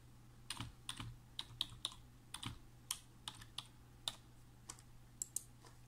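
Someone types a password on a computer keyboard while setting up a surveillance camera system: a run of crisp, close key clicks in an irregular rhythm over a quiet background hum.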